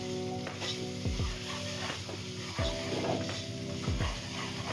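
Mutton frying with ginger garlic paste for biryani sizzles quietly in a pan, broken by a few sharp scraping stirs at roughly one-second intervals.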